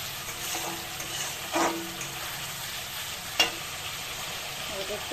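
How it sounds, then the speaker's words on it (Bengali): Thin fish pieces in a Bengali kalia sizzle steadily as they fry in a pan, with a few sharper scraping strokes as the mixture is stirred and cooked down. "পাতলা মাছের কালিয়া করবো একটু ভালো করে কষিয়ে নেব"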